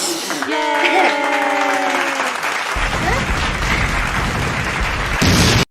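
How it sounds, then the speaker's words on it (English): Hand claps meant to trigger The Clapper in an old commercial burst into a dense, loud run of clapping, following a sung tone with voices. The clapping continues strongly before cutting off abruptly. "All you had to do was clap, and the lights turned on and off."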